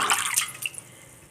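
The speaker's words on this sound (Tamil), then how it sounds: "முடக்கத்தான் கீரையை வந்து நல்லா அலசி" Mudakathan keerai (balloon vine greens) being rinsed in water, a brief splashing and dripping burst that quickly fades to quiet.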